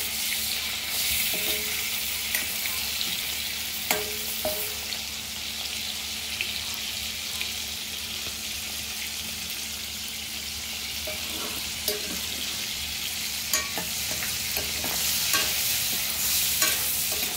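Dried salted fish frying in oil in a home kitchen pan, a steady close sizzle and crackle that runs continuously, with occasional small clicks and taps of a utensil against the pan.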